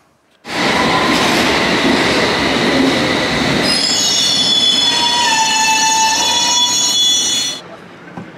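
A London Underground metro train in motion: a loud, continuous close rumble of wheels on rails, with high squealing wheel tones rising partway through and holding until the noise cuts off near the end. No voices.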